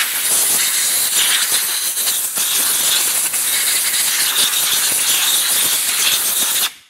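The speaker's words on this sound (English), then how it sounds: "I'm just going to air blow the dust off" Loud, steady hiss of compressed air blowing dust off small engine parts during a crankshaft swap, a continuous close blast lasting several seconds before cutting off abruptly, with no voices.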